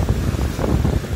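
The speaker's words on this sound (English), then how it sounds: "The waves crashing in down there on the rocks." Waves breaking on the rocks of the shoreline at East Harbor State Park in Marblehead, Ohio, a steady low rumble of surf mixed with heavy wind buffeting the microphone, loud and close, with no talking.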